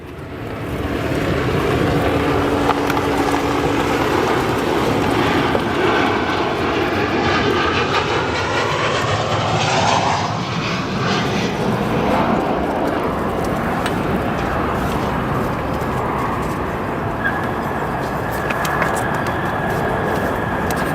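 An Embraer E175 regional jet taxis at Chicago O'Hare, its engines spooling up into a steady, loud whine and rumble that holds for the whole stretch with no talk over it.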